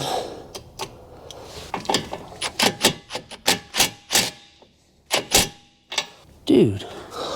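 A series of sharp, loud knocks in an uneven rhythm, like hammering on wood or hard material, close by with brief pauses between strikes.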